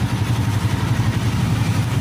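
Motorcycle engines rumble steadily as traffic passes beneath a bridge near a U-turn in Sargodha, a continuous close, fairly loud mid-pitched drone with no voices.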